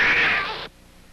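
A cartoon cat lets out a loud, strained meow that holds for about half a second and then cuts off abruptly, leaving only faint background hiss.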